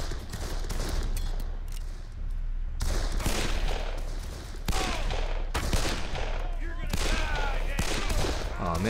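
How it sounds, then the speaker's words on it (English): Gunfire in the Darkest of Days video game, with repeated musket and rifle shots and scattered volleys over a battlefield din, some close and loud, others distant, with voices mixed in. "Getting shot from over there."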